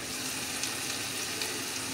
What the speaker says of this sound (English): Now you can see the food pot is boiling.